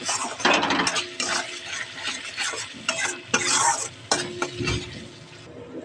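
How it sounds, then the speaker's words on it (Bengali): A spice paste of green chili, salt, turmeric, chili powder and sugar is stir-fried in a pan, with sizzling under repeated scraping and clinking of a metal spatula against the pan in irregular bursts. "একটু চিনি দিয়ে ভালো করে কষাতে হবে"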